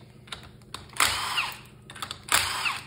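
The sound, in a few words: power tool removing engine head bolts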